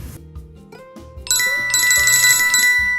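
A bright notification bell chime rings out clearly, a cluster of high metallic tones sustained over a softer tonal background after a brief quieter lead-in.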